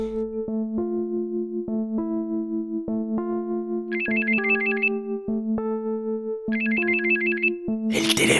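Telephone ringing: a loud electronic ringtone plays a repeating melodic pattern with bright trilling bursts, continuing steadily for several seconds.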